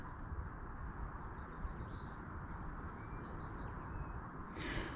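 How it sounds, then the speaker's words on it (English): Faint birdsong and cooing on a quiet, lonely stretch of the Sustrans 64 railway trail toward Newark, a few distant chirps sitting over steady low wind or road rumble. "all I can hear are birds."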